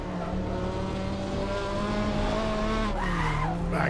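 A video game racing car locks its wheels, tires squealing in a sustained skid over a loud engine whine, with the pitch shifting near the end.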